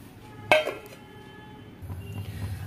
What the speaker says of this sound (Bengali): আমি গ্যাস ওভেনে প্যানটা বসিয়ে দিয়েছি